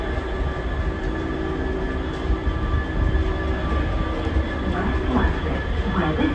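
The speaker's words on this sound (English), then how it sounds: "I see some lights away in the distance of another train coming in." A London Underground Central line train rumbles into a station, a loud, steady low roar of wheels and motors with faint metallic squeals and clatter rising toward the end.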